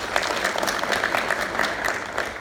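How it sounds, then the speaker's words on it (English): Audience at an African mining summit applauds a finance panel with dense, steady clapping heard throughout at moderate volume. "please give them a big round of applause"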